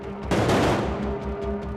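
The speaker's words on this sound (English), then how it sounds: "We have a mortar and a propane popper right down here" A loud, close pyrotechnic mortar and propane popper blast erupts on a film stunt set with a broad burst of noise, then settles into a rumbling roar of crackling fire and debris.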